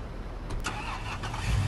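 A tow truck's engine in the game Police Simulator turns over and runs at a low, steady mid-pitched idle. It is fairly quiet, with no talking.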